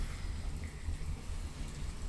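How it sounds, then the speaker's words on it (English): Steady rain hisses as a continuous, even wash of noise with a low rumble underneath, with no voices over it. "You like the rain noise?"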